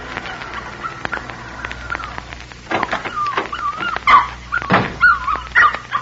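A puppy whimpering and yipping in a 1946 radio drama, thin rising whines and soft yelps growing louder toward the end over a faint background hiss.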